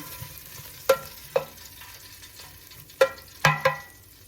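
Pork belly frying in a pan, with a low sizzle under a handful of sharp utensil clicks and scrapes as it is turned and stirred, close by and with no talking.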